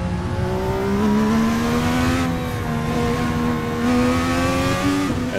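A race car engine on the bumpy Detroit Belle Isle circuit in a racing game drones loud and close, its pitch swelling and dipping with throttle changes as it revs through corners.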